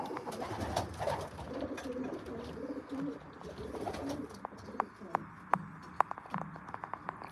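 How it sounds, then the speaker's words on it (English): Racing pigeons coo steadily inside a loft, with soft overlapping calls and a few sharper clicks and flutters close by. The birds carry on alone with no speech. "We are training racing pigeons"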